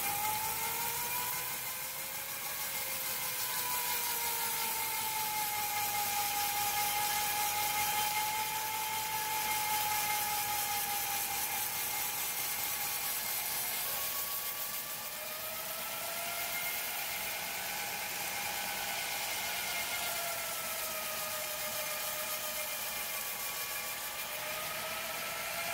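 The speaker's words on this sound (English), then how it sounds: "put the drill in the vise, and I am going to sand it down with different grit sandpaper" A drill held in a vise spins a saw-blade cymbal while 60 grit sandpaper grinds against it, giving a continuous whirring, rasping drone with a wavering pitch that runs steadily and loudly throughout, with no voices.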